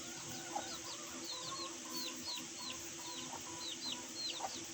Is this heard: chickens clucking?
yes